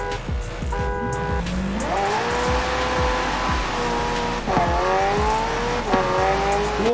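Several cars drag racing together in Forza Horizon 4, loud engines revving and shifting up through the gears with rising and falling pitch, tire squeal mixed in, all close and continuous.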